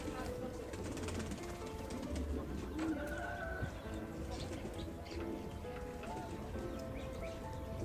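Pigeons coo softly at a small animal farm that also keeps rabbits, goats, ducks and chickens, their low murmuring calls repeating faintly beneath a steady, busy outdoor background with scattered chirps.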